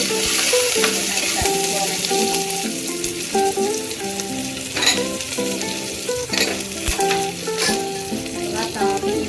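Curry leaves sizzle and crackle in hot oil with mustard seeds and asafoetida for pappu charu, a steady loud frying hiss broken by sharp pops and the clink of a stirring spoon against the pan.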